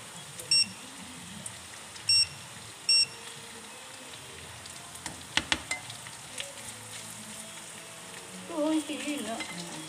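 Adobo frying in a chowpan with carrots added, a low steady sizzle broken by occasional scrapes and stirring clatter, with three short beeps early on.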